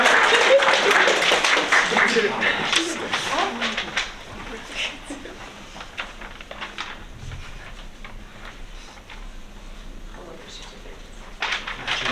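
A room at a school board meeting applauds an attorney: a burst of close clapping for the first few seconds, then it thins to scattered claps and murmuring voices, with a brief pickup of claps near the end.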